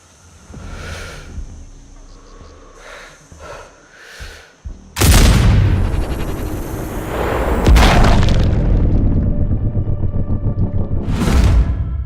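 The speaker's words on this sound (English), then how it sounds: "I heard an explosion." In the game Sniper Ghost Warrior Contracts 2, a loud, sudden boom erupts midway, followed by a sustained rumbling blast and a second heavy impact, after quieter muffled thuds and ambient game sounds.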